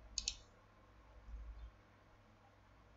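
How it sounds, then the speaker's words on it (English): A computer mouse double-clicks sharply near the start at a desk running CAD software, then faint soft handling noise follows in a quiet room. "And I click OK"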